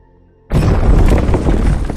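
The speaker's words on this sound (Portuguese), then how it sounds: "A tampa de 1000 toneladas que ficava sobre o reator é arremessada para cima por causa da explosão" A huge reactor explosion hurls the 1000-tonne lid off the reactor as a dramatic documentary sound effect: silence, then a sudden loud, deep boom with crashing debris that roars on without letup.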